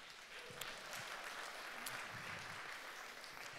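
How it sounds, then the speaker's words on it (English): A church congregation gives a round of applause for Kristen during a sermon, steady scattered clapping heard faint and somewhat distant, sustained throughout without speech. "Round of applause for Kristen."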